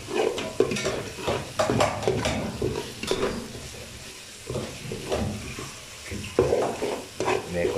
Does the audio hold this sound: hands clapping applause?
no